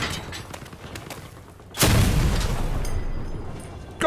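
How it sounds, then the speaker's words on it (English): A tank destroyer's cannon fires in Crossout closed beta combat, one loud booming blast with a long rumbling tail over steady engine and battle noise. "When you hit, this cannon is devastatingly powerful against most machines, unless they've got really serious armouring."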